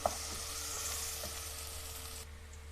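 Onion with ginger-garlic paste frying in a pan while being stirred, a steady close sizzle with faint scraping that drops off near the end, no talking.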